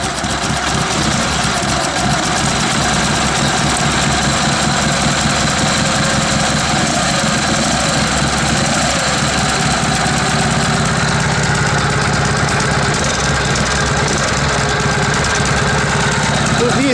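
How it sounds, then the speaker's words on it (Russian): A motorcycle engine, a bobber built on a K-750, idles steadily throughout, even and unbroken, with a low rumbling throb and faint mechanical clatter from the gearbox, close and fairly loud. "И какие звуки издает двигатель."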